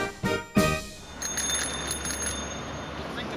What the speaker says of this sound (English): Ring the bell when you're ready.